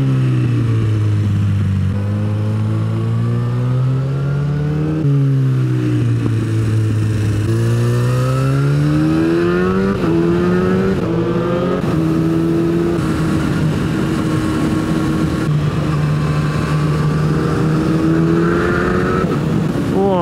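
A motorcycle engine roars loudly and steadily through Swiss Alpine mountain bends on the San Bernardino and Splügen passes, its exhaust note rising and falling with each gear change and echoing off the slopes for the whole stretch.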